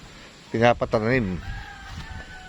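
A rooster crows once, loud and close, its wavering call cutting through a quiet outdoor background with faint bird chirps afterward.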